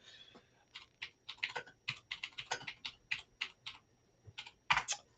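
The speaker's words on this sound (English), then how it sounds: "I'm just typing in chat." Rapid, uneven bursts of key clicks from typing on a computer keyboard, close and clear against a quiet room, with brief pauses between runs of keystrokes.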